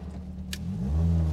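MGB GT fitted with a Duratec engine pulling hard under acceleration, the engine note rising steadily and growing louder over a brief, close burst with no talk.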